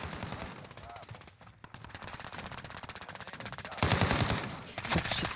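Gunfire in Call of Duty: Modern Warfare in hardcore mode, with rapid automatic bursts crackling throughout, louder and denser near the end, and a voice talking intermittently over the shooting.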